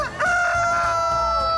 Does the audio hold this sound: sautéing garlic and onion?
no